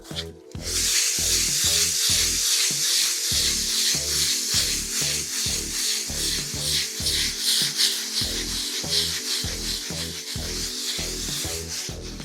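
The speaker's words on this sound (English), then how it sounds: "just flat, give it a circular motion and just lightly rub over it." Sandpaper held flat and moved in circles lightly scuffs a wall before painting, a steady close raspy rubbing in quick repeating strokes that continues for about twelve seconds without talk.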